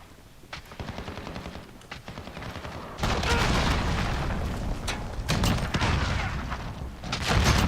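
Heavy explosions and rapid gunfire from a cruise missile strike in Call of Duty Modern Warfare, loud booms rolling in after a stretch of sporadic shots, with dense crackling bursts continuing throughout.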